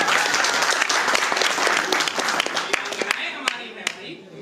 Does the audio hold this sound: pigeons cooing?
no